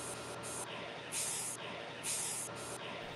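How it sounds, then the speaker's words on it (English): Black spray paint can spraying onto a wooden nightstand being refinished, close hissing bursts in quick succession with two longer, louder sprays among shorter ones. "After two coats of black spray paint, I throw on some clear coat"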